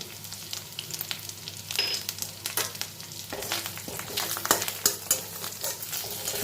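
Asafoetida stirred in hot oil in a pan, a continuous sizzle and fry with irregular clinks and scrapes of a spoon against the pan, close and clear without talk.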